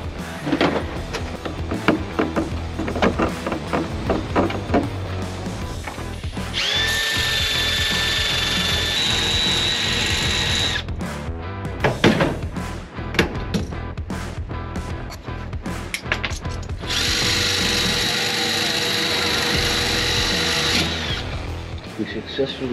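Dremel cutting wheel grinding out a screw in an abandoned airplane, two long high-pitched whining cuts separated by clattering handling noises, close and loud.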